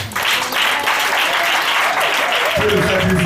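A church congregation claps loudly and steadily, a dense burst of applause close by, with a voice joining under it near the end.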